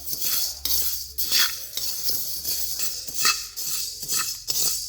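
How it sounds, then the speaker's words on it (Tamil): Black pepper being dry-roasted in a pan over medium heat and stirred with a spoon, giving repeated soft scraping and light clinking strokes in an uneven rhythm, close and steady, with no speech. "மிளகு போட்டாச்சு இதுவும் அப்படி தாங்க மிதமான சூட்டில் கொஞ்சம் வறு வறுத்துட்டே இருக்கணும்"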